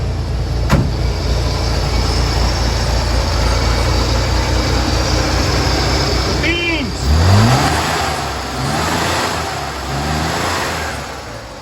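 A Corsa car engine idles with a steady, close rumble, then revs and climbs in pitch before settling back. Someone talks over the engine noise.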